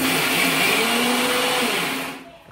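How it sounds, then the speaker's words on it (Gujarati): A kitchen mixer grinder whirs loudly and steadily while grinding soaked rice and lentils into dosa batter, then winds down near the end, with no talking. "એટલે બસ બધા મિક્સરમાં ગ્રાઇન્ડ કરી લેવાનું"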